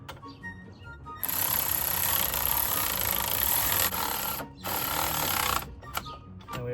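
A power tool on a 2005 GMC Sierra wheel bearing runs in a steady, loud mechanical whir as the bolts are tightened, with a brief pause before it resumes and then cuts off.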